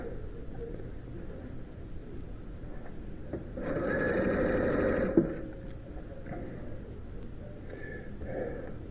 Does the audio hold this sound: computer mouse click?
no